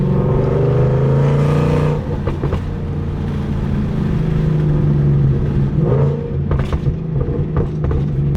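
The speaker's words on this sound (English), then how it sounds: "the burbles are so violent now" A Ford Mustang with its catalytic converters deleted rumbles loudly up close, a deep, heavy exhaust drone broken by sharp crackling burbles and pops as the revs drop.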